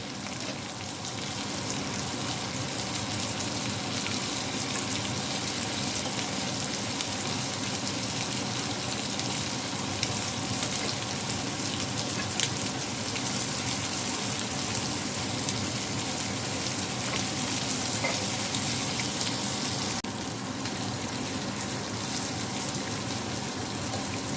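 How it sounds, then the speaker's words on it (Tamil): Butter garlic prawns fry in a pan with a steady, dense sizzle that keeps an even loudness throughout, close by and with no talking. "எல்லா இறாலையும் திருப்பி கொள்ளுவோம்."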